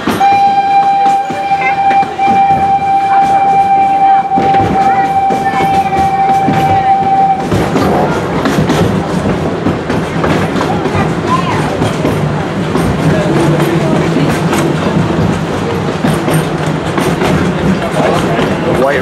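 A train rumbles close by with a steady horn blast, then the horn stops and loud rattling, clattering wheels carry on as the cars roll past.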